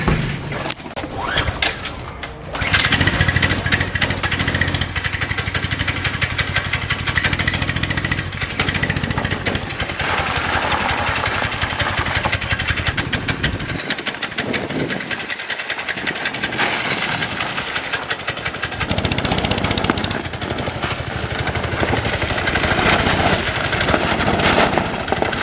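A modified Barbie Jeep's engine runs steadily and loudly through a test ride around a property, with a rapid buzzing, sputtering drone that holds nearly constant for most of the ride.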